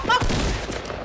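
Gunfire in the Fortnite video game, a brief clustered burst of sharp shots in about a second, loud and close, with a voice faintly under it.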